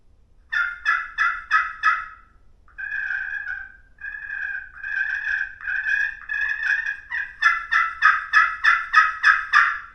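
Turkey yelps and clucks from a slate friction call with a plastic striker, scratched in quick rhythmic bursts, loud and close, a short pause midway, then a steady run of sharp yelps.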